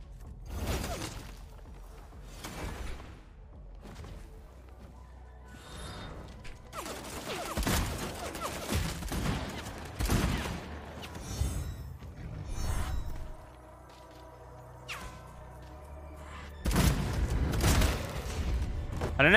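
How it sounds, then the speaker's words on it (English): A Tommy gun fires in the vampire battle royale game Bloodhunt, in scattered bursts and single cracks with whooshes and mechanical clatter, moderately loud throughout. "Tommy gun's not very good, eh?"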